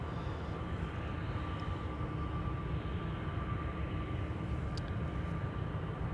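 A KLM Boeing 737's engines at misty Amsterdam Schiphol Airport in low visibility give off a steady, even broadband roar that holds unbroken throughout, with no voices.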